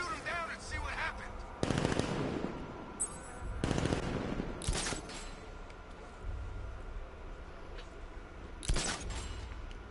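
Gunfire in the game Batman: Arkham Knight while an enemy is shot down: repeated bursts of rapid shots and sharp impacts come over a continuous rumbling game backdrop, with a few louder blasts scattered through.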